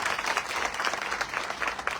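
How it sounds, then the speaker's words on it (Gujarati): A crowd applauding at a political gathering, a dense patter of many hands clapping steadily and fairly softly, as if heard from a short distance. "આ ટીમને એકવાર જોરદાર તાળી"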